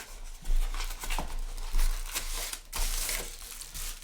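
Close crinkling and tearing as tape is peeled off a box, with scratchy bursts and crackles over about four seconds, no talking.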